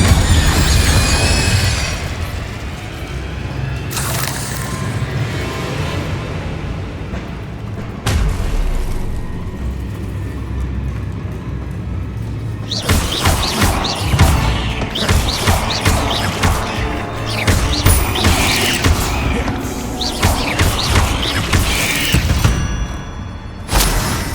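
Spell blasts boom and crash during Hogwarts Legacy combat: a dense run of loud explosions, bursts and rumbling impacts repeating across the stretch, interspersed with game effects and no talking.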